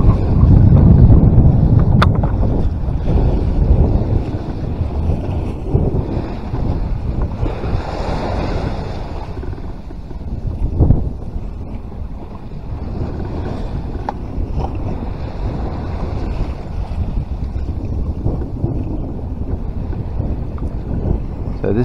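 Strong, continuous wind roars across a sailboat on open sea in a summer gale, with waves surging and rushing against the hull and heavy buffeting on the microphone throughout.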